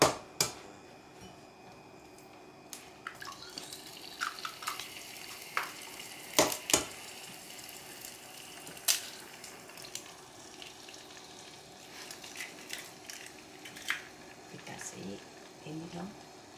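Two eggs sizzle in a frying pan, a steady hiss broken by sharp clicks and taps of utensils against the pan.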